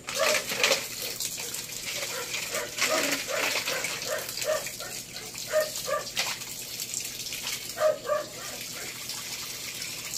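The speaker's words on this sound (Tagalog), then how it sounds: "Patay mo muna yung tubig." Water runs from a tap during washing at home, a steady gushing stream with a dog barking repeatedly in bursts over it.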